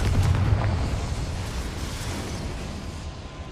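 A Confringo fire spell from Hogwarts Legacy bursts in a loud, deep explosive blast at the start, then tails off into a sustained rumbling roar that fades gradually over a few seconds.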